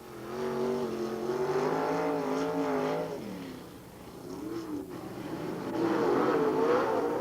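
Race cars from the California Racing Association tearing through a four-car dash at Limaland Speedway, engines roaring loudly and continuously with rising and falling pitch as they pass and accelerate, no talk over them.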